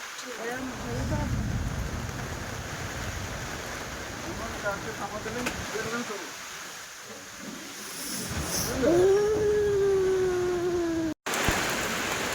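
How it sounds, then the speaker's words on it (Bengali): A sudden Kalbaishakhi storm brings rain and wind at a rural home, a dense, continuous hiss of rainfall under gusting noise, with people talking and a brief tonal whine near the end. "দেখো হঠাৎ করে কিরকম বৃষ্টি শুরু হয়ে গেল ঝড় বৃষ্টি"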